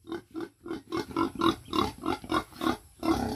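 A pig grunts in a steady rhythmic series of about a dozen short, nasal grunts. They are close and fairly even in loudness, with no talking.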